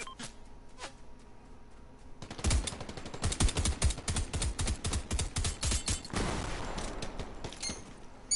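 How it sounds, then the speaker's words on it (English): Rapid automatic gunfire from an enemy in a video game, a dense burst of sharp shots lasting several seconds, fairly close, with little talk over it. "he's shooting at me"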